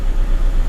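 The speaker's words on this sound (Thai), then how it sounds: "ตอนนี้รอบเครื่องยนต์ก็อยู่ประมาณ 970รอบหรือ" A car engine idles steadily at about 970 rpm, giving a close, constant low hum with no other sounds.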